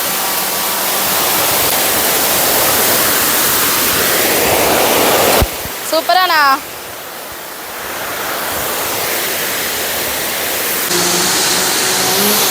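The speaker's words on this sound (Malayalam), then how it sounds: "ഇന്നലെ മിഞ്ഞാന്ന് മഴ ഉള്ള കാരണം നമുക്ക് കുറച്ച് വെള്ളച്ചാട്ടം കാണാൻ പറ്റി" A loud, continuous roar of rushing water from Athirappilly waterfall, swollen after rain, with one person briefly speaking partway through before the steady roar resumes.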